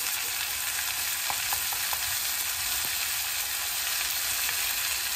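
Onions and spice paste with chilli powder, turmeric, salt and grated ginger sizzle steadily in a pan over medium heat, a constant close frying hiss with a few light scrapes of stirring.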